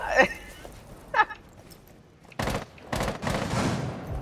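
Rainbow Six Siege multiplayer gunfire comes in a few sharp shots followed by short rapid bursts, fairly close and moderately loud, with faint voices in the background.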